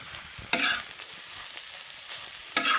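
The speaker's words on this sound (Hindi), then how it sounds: "ये जितना भी हमने टमाटर जो मैश किए हुए हैं ना, हमने इसको इसके साथ हमने अच्छे से मिक्स कर देना है।" Mashed tomatoes are stirred in a pan, producing two soft, brief scraping strokes over a low steady sizzle-like hiss with quiet gaps between them.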